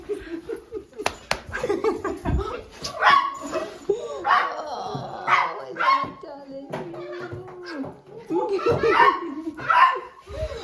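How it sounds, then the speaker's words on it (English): Dogs waiting outside bark and yip in scattered bursts to be let in, mixed with lively talk, a voice and laughter indoors. "Oh, the dogs want in."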